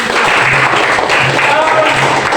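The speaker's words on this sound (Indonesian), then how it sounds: "tepuk tangan untuk jawaban" Applause from a class of students in an Islamic religious education lesson, a loud, even burst of many hands clapping throughout, with faint voices beneath.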